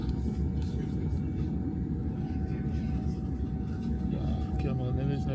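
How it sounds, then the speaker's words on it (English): A distant airplane takes off, heard as a low, steady engine roar that fills the background, with muffled voices mixed in. "The plane taking off over there."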